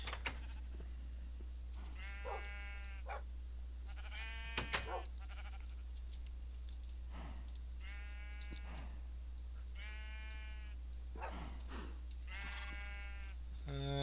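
Sheep bleating in the Minecraft video game, five or six separate bleats spaced a couple of seconds apart over a low steady hum, with faint clicks between calls.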